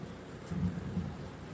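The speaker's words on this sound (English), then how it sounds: "Ooh, got some lightning going on." A low, muffled rumble of thunder from a thunderstorm swells briefly and then fades. It is faint and distant, with a light wash of rain-like hiss behind it.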